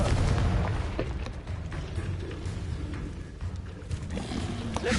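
Confringo fire-blast spell in the video game Hogwarts Legacy: dense, loud booming blasts and rumbling bursts fill a continuous, busy game mix without letup.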